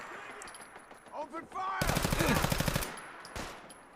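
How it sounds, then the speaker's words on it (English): A rapid burst of automatic gunfire from a gun in Fallout 4 rattles for about a second, then a single later shot follows, with game sounds and brief tones before it. "Okay, let's check out our gun on these guys."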